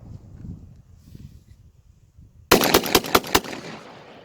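Black Aces Tactical Shockwave semi-auto shotgun firing Winchester AA shells outdoors: after quiet rustling, a rapid string of about five loud, sharp blasts in quick succession with echoing tails.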